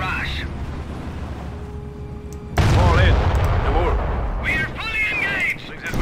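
A mortar barrage in the wartime strategy game Company of Heroes. Heavy booming blasts and rumbling impacts come in loud and close, with a radio-style voice talking over the start and game voices speaking throughout.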